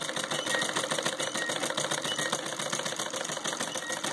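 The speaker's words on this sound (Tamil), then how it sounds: "இப்போ இந்த துணியை இந்த வெட்டு பகுதியில் வச்சு சைடில் இருக்கிற வீலையும் அடியில் இருக்கிற பெடலையும் மீச்சிட்டு அப்படியே கண்டினியூஸாக அப்படியே மீச்சிட்டே வந்தீங்கன்னா இப்போ துணியில் தையல் விடுவீங்க." A treadle sewing machine stitches cloth as its side wheel and foot pedal turn, giving a fast, even mechanical clatter that runs continuously at moderate loudness with no talking.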